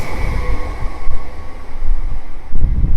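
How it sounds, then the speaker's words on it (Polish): A Łódź Agglomeration Railway (LKA) train bound for Warszawa Wschodnia pulls into platform two, track three, at Warszawa Gdańska station, giving a steady low rumble that swells toward the end. "Pociąg łódzkiej kolei aglomeracyjnej do Warszawy Wschodniej wjeżdża na tor trzeci przy peronie drugim."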